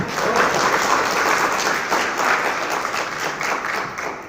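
Sustained applause from an audience at a live Lucknow entertainment event, dense steady clapping filling the room for several seconds without a break.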